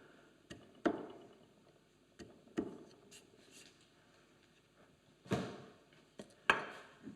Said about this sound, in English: So here I go in with my chisel, just pop that knife wall.